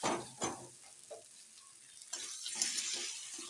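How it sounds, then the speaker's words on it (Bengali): Hot water added to a pan of Bengali rui fish kalia, a low bubbling and splashing that swells into a broad, steady hiss of simmering sizzle in the second half, close by. "গরম জল এবার আমি দিয়ে দিচ্ছি"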